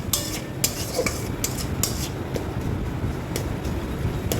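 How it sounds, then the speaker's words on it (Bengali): A spoon stirs cumin powder into a gravy in a pan, giving soft irregular scrapes and light metallic clicks at close range, with low background rumble and no talking. "জিরে গুঁড়োটাকে ভালো করে মিশিয়ে নেব"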